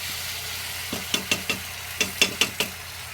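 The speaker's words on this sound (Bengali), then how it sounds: "মশলাটাকে তেলের সাথে ভালোভাবে নাড়াচাড়া করে কষিয়ে নেব।" A paste of ground ginger, garlic and dry chilli is stir-fried in oil, with a constant close sizzle under a series of sharp spatula scrapes and clacks against the pan in an uneven rhythm, no talking.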